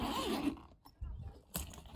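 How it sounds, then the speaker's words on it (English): Zipper being pulled open on a carrying bag for a car VCR, heard as a short close rasp followed by a couple of quieter fabric and zipper movements. "Unzip this part."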